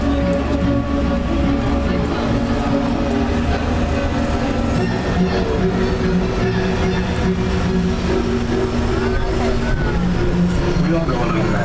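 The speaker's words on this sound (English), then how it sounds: "We're going to stop the train here for a few moments if you want to get some photos and video." An open tour train rolling through a studio backlot past film sets, with a steady low engine rumble and road noise throughout, while a voice talks over it.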